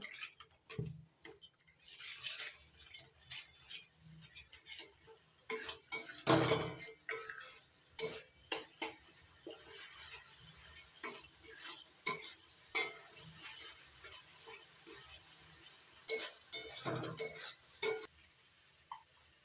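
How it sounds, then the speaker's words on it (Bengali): A spice paste with turmeric and salt is stirred and sautéed in a pan for an egg and lentil dish, with repeated scraping strokes and clinks of a spoon against the metal under a faint sizzle. "এবার মশলাটা ভালো করে কষিয়ে নেব"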